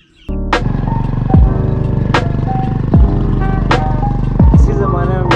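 A motorcycle ridden in Pakistan starts up close by, its engine running steadily with three sharp rev surges spaced a second or so apart, loud and continuous throughout.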